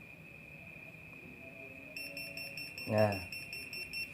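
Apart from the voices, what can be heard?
3D 12-line laser level alarm beeping when not level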